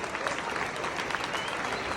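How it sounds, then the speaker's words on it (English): A crowd at a spin-in event applauds steadily and continuously at close range, a dense wash of many hands clapping with no pauses. "give yourselves and your colleagues a big round of applause for the important and noble work you all do"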